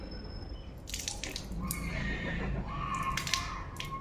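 Water scooped by hand from a tap or vessel for rinsing the mouth during Islamic ablution, heard as light close splashes and drips over a steady background hiss, with no talking.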